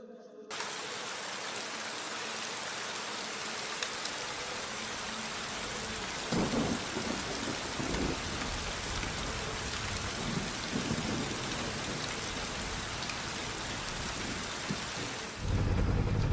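Steady heavy rain hisses continuously in a wet race on Cadwell Park in the RIDE 3 motorcycle game, with low rumbles of thunder rolling through near 6–8 and 11 seconds and a louder crack at the end.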